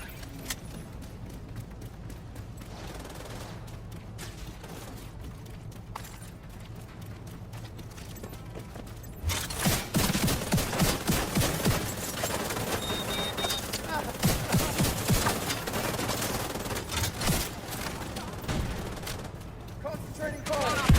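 Gunfire in The Division 2 as a squad concentrates fire, a quieter stretch of scattered game noise giving way to dense, loud, continuous shooting with overlapping bursts and impacts for the rest of the clip.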